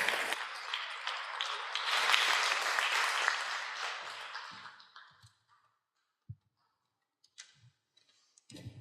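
Audience applause for two volunteers at a church talk on forgiveness; a dense burst of clapping lasts about four seconds, then fades out, leaving near silence with a few scattered soft taps and knocks.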